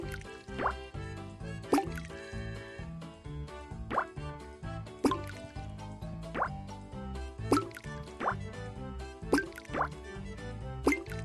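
Mint leaves and freshly cut strawberries drop into a drink in a kids' baking game, making a series of soft, bright plops and drips over light background music, each splash short and evenly spaced.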